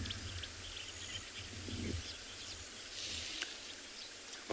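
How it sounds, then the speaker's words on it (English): Chorus of birds calls at sunrise on safari at Chitwa, including weavers, wagtails and camaropteras, with scattered chirps and whistles over a steady hum of insects and distant bush ambience. "It's wonderful just to sit and listen to the lovely sounds of Chitwa, all the birds calling."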